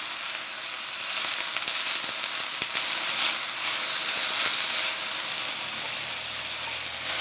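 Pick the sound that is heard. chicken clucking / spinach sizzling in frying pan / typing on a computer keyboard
spinach sizzling in frying pan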